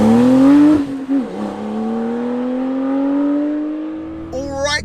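A 2025 Porsche 992.2 911 Carrera T with manual gearbox and light modifications accelerating hard, engine revving up steadily after a quick gear change, loud and close with a rising howl before another shift at the end.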